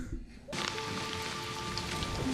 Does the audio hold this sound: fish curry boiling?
no